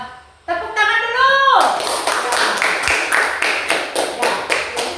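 A classroom of children claps together for a student group after a brief voice, the hands settling into a rhythmic, evenly spaced unison beat that continues to the end.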